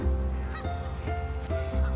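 Geese honking nearby, several loud nasal calls in quick succession, some overlapping.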